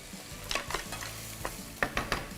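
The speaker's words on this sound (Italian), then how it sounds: "il basmati che abbiamo detto chiaramente è già bollito. Sì. E lo stiamo mettendo dentro a friggere" Already-boiled basmati rice frying in a pan while being stirred, with a steady sizzle under a series of sharp scraping stir strokes, close and moderately loud, no voices.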